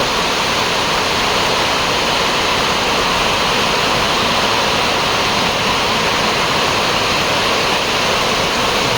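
Heavy rainwater rushing along a road in Bylakuppe during a downpour, a loud continuous broadband wash of flowing water and rain with no break and no talk.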